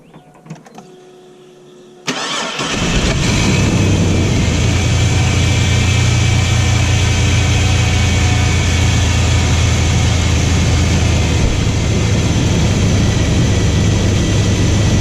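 A car engine cranks and catches, then settles into a steady, loud idle that runs on evenly with a low rumble and fan-like hiss, heard close up.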